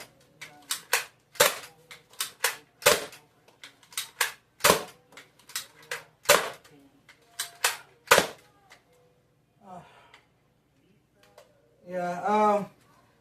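A toy blaster fires a string of sharp, loud snapping shots, close by and unevenly spaced, with brief mechanical clicks between them and a short bit of speech near the end.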